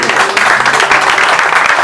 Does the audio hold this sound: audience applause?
yes